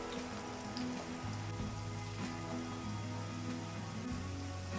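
Pieces of eggplant, pepper and garlic frying in oil make a dense, rain-like patter of crackles, continuous and close with a few louder pops.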